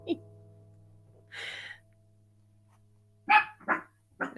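Dogs indoors bark in a few short, scattered bursts, fairly faint and somewhat distant against a quiet background with a low steady hum.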